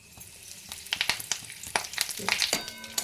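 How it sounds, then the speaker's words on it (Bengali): Dried red chillies, black mustard seeds and curry leaves spit and crackle in hot oil in a pan, with sharp irregular pops over a steady sizzle, close and fairly loud, no talking. "দুটি শুকনো লঙ্কা দিয়ে দিলাম এইবার দিয়ে দেব এক চামচ কালো সর্ষে তারপর দিয়ে দিচ্ছি ক্যারি পাতা"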